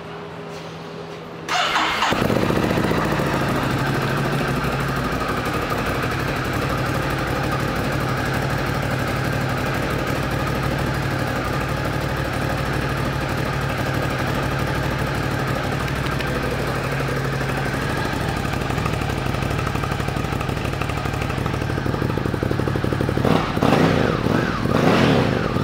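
A 2020 Ducati Scrambler 1100 engine starts up and settles into a steady, throbbing idle that runs on unchanged, close by, with no talking.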